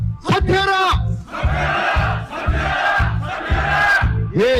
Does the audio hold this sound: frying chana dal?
no